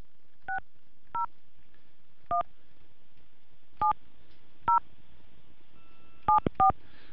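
Telephone keypad tones as a number is dialed, seven short dual-pitched beeps, close and clear, spaced irregularly with a quick pair at the end, over quiet background and no talking.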